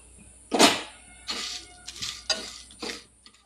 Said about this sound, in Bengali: এই মশলাগুলোকে আমি কাঠখোলায় একটু ভেজে নেব